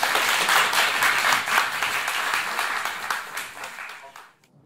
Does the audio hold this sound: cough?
no